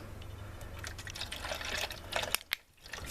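Water running into a pet fountain basin at home, a steady close liquid wash with small splashes and trickles, broken by a couple of brief clunks near the end as the flow stops.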